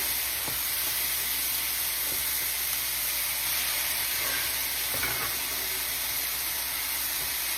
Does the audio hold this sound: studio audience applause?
no